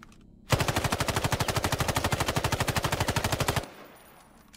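A rapid, unbroken burst of automatic fire from an MK18 rifle in the Islands of Nyne battle royale game, about three seconds of loud, evenly spaced shots that stop abruptly and leave a brief fading tail.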